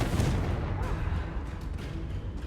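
Confringo blast spell explosion in the video game Hogwarts Legacy, a loud booming burst with dense rumbling low end that sustains through the short clip amid game combat noise.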